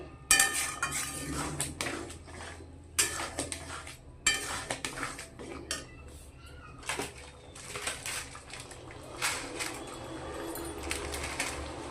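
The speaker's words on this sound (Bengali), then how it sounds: "ভালো করে নাড়াচাড়া করে নিব" Black chickpea curry stirred in a pan: a spoon scrapes and clinks against metal in uneven bursts, close and fairly soft, with a faint cat-like meow mixed in.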